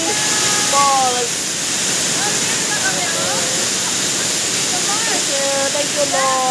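Dinadiawan Falls roaring as a loud, steady wash of falling water, with faint voices and whistling tones drifting over it.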